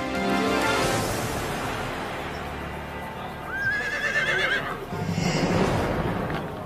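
A horse stuck in a gap on a railroad bridge over a creek lets out a loud, quavering whinny partway through, amid rustling and shuffling movement.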